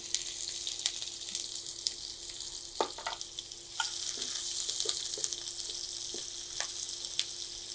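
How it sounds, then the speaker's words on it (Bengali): Three onions frying in oil for potato bhaji give a soft, steady sizzle with scattered light clinks and scrapes of a utensil in the pan, fairly quiet and close, with no voice. "আর এখানে আমি 3টা পেঁয়াজ দিয়ে দিলাম।"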